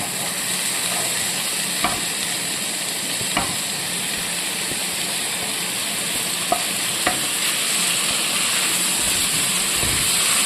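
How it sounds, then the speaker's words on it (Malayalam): Tomato and green chili fry in a pan with a loud, continuous hissing sizzle, close by, broken now and then by soft knocks of a spoon stirring, with no one speaking. "നന്നായിട്ട് അങ്ങ് ഇളക്കുക"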